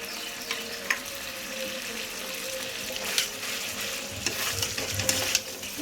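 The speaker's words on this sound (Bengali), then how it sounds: "এইবার আমি যে পেঁয়াজটা বেটে রেখেছিলাম সেই বাটাটা দিয়ে দেবো" Onion paste frying for chicken korma gives a steady, moderate sizzle with occasional scraping stirs and soft clinks of a spoon, no talking.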